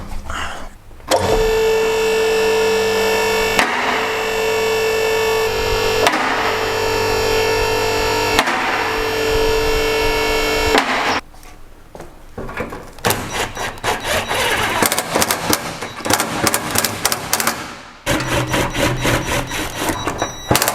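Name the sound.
vehicle lift raising the Mitsubishi L200 pickup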